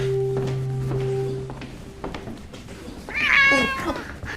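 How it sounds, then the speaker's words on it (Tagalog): A cat gives a single clear meow near the end, after some faint knocks, a thud and a brief steady hum, heard close with no speech. "Pusa lang pala."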